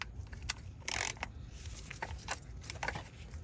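A socket ratchet tightens the oil filter housing on a 2023 Volvo XC90 during an oil change, giving a quick series of faint, close mechanical clicks over a low background hum.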